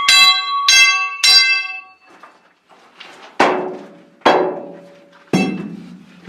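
Rock roof in a Bendigo gold mine being tapped with a hammer to test soundness: three bright, ringing strikes with a clear metallic tone, followed by several duller, deeper knocks, each decaying quickly, close by and without speech.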